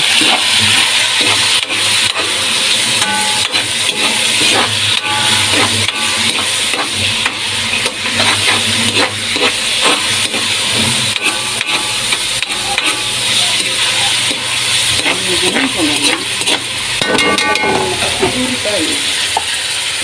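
Vegetables being stirred as they fry in hot oil in a pan for a sautéed vegetable dish: a steady, loud sizzle runs throughout, broken by repeated scraping and clinking stirs, with a voice now and then in the background.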